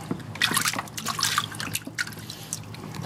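Water rinsing out the gravity trap of a hand-built gold dredge, splashing and trickling close by in uneven bursts, fairly quiet.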